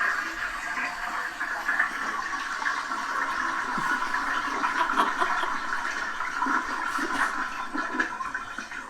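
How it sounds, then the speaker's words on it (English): A toilet emoji flush sound effect plays as a continuous rushing, gurgling swirl of water that holds steady at moderate volume for nearly nine seconds without talk. "It's called Toilet and then Toilet Emoji Flush Sound Effect."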